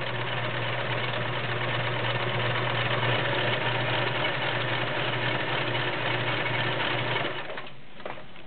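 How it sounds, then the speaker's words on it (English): A 1941 Kenmore convertible sewing machine sewing a stretch stitch, its motor running in a fast steady mechanical whir close by, slowing and stopping near the end, with no talking. "we'll flip it over to white and we'll do a stretch stitch"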